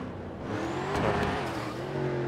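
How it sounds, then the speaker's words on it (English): A loud Porsche GT3 sports car engine rumbles and revs steadily from close by, swelling briefly near the middle before settling, with no talk over it. "This car is so fucking loud."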